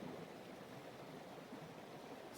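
Mountain creek flowing beside a backcountry campsite, a steady broadband rush of running water, close and unbroken, with no voices.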